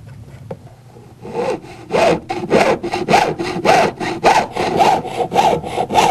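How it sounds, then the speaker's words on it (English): Jeweler's saw blade piercing out an interior opening in metal, a steady series of about a dozen rhythmic rasping strokes, close and fairly loud, with no talking. "When sawing an interior area, in a process called piercing, I first loosen the blade and thread the object onto it."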